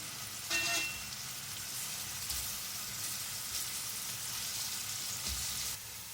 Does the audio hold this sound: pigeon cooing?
no